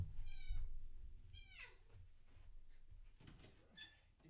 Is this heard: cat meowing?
yes